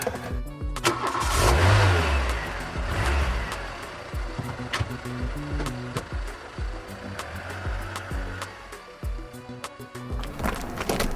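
A car engine starts, revs and pulls away close by, a loud rumbling surge that settles into a steady, fluctuating drone as the car drives off, with no talking.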